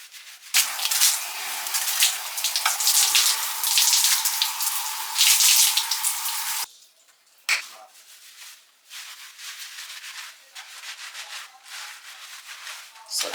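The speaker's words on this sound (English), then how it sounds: "this is the first wash as usual, which is just to like wash out all the oils before you go into the second wash" Hair being washed with shampoo and running water during a first wash, giving a loud, close rush of water and rubbing that stops abruptly, followed by quieter wet squelches and scrubbing.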